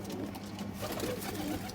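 Pigeons cooing inside a coop, a soft continuous chorus of low, rolling coos from several birds close by, steady in level with no voices.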